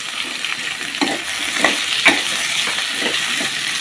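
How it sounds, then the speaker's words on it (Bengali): Tomatoes frying in a pan give a steady close sizzle, with a few soft stirring scrapes over the continuous hiss. "এগুলো একটু ভাজি করে নিতে হবে"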